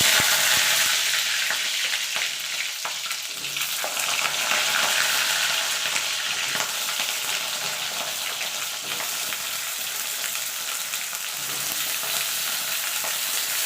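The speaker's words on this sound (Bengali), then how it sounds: "এবার দিয়ে দেবো পটলগুলো ভেজে নেবো" Pieces of pointed gourd (potol) sizzle in hot oil in a wok over high heat, a loud, continuous crackling fry with occasional stirring scrapes, no voices.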